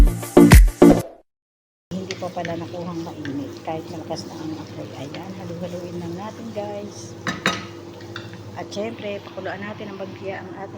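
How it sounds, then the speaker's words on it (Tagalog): Onions are stirred in a thick cooking pan while making biryani, producing steady scraping and clattering of utensil on metal. A person talks over it throughout, after a brief clatter and a short silence at the start. "haluin natin ang sibuyas"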